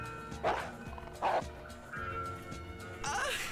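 A dog in the video game Enchanted Arms gives a couple of loud yips and barks, then whimpers and whines, close by over a low game music bed.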